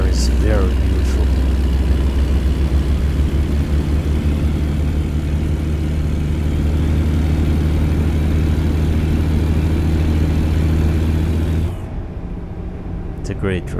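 Kenworth W900 truck engine in American Truck Simulator, a loud, steady low diesel drone that holds for most of the stretch and then drops to a quieter idle near the end.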